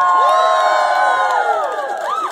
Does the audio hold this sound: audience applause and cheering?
yes